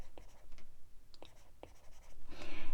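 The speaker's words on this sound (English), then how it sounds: "So let me just write that out." Pen or marker writing out a linear equation during a math lesson, a few short scratchy strokes close by, separated by brief pauses, fairly faint.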